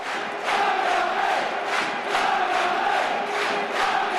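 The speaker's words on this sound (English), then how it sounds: "The Barmy Army are in raptures now." Warrington's Barmy Army rugby league crowd roaring and chanting at a 2005 Warrington versus Hull match, a loud, dense swell of voices pulsing in rhythmic waves.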